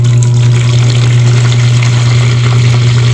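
Water is poured out for making Filipino-style hotcake batter, giving a loud, steady rushing pour over a low constant hum for about three seconds, with no talking.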